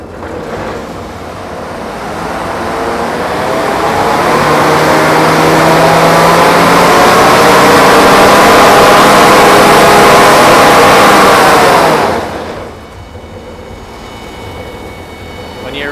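An SVU-50 engine throttling up, its roar swelling into a loud, steady drone with a rising harmonic whine that holds for several seconds, then drops abruptly back to a lower idle rumble.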